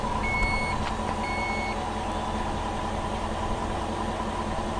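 Power liftgate on a 2019 Dodge Durango Blacktop Edition closing: a steady motor hum runs throughout, with a few short electronic warning beeps near the start.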